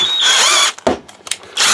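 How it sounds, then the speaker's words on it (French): A power drill whines loudly in short bursts while re-drilling a hole for a thread repair kit, starting and stopping several times with brief quiet gaps between. "Voilà, donc on reperce le trou."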